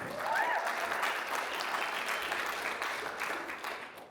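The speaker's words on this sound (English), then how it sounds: "Give a round of applause." Audience applause fills a convention hall at a voice-acting rodeo event, dense and steady throughout with a few brief whoops over it, tapering slightly at the end.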